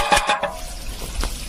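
Chicken gizzard and liver being stir-fried with onion in a pan for a village-style curry, a few quick scraping stirs and sizzles close up, then a softer continuous fry.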